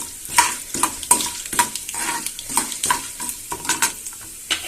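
Mustard seeds popping and sizzling in hot oil for tempering a beetroot stir-fry, with a spoon scraping and stirring the pan in a steady rhythm of close, crackling bursts and no talk.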